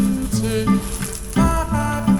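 Ginger sizzling as it sautés in a hot pan, a bright frying hiss with stirring scrapes, close and steady, while steady tonal music plays in the background.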